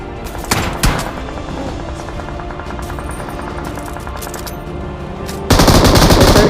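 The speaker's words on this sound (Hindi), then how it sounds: "यहाँ पे तो सारे बंदे हम पे ही शॉट्स लेना चालू कर देते हैं।" Gunfire in the mobile battle royale game BGMI during a duo match: a couple of sharp shots early on, then a sustained rapid burst of automatic fire near the end, loud against a continuous game background.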